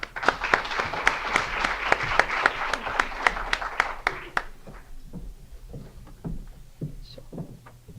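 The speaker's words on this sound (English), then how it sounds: "a round of applause for all our bachelor's degree graduates" A small audience at an English department night claps for bachelor's degree graduates, a brisk run of distinct close hand claps that thins out and fades into scattered taps and room noise.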